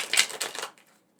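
A deck of tarot cards being shuffled by hand, with a dense, papery riffling clatter for about three-quarters of a second, close and moderately loud, then trailing off into quiet.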